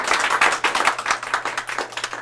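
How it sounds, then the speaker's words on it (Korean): An audience at a Korean book talk event claps in a lively round. The close, dense clapping runs continuously with small surges, and no one speaks over it. "박수 쳐주시려면 확실하게 쳐주세요"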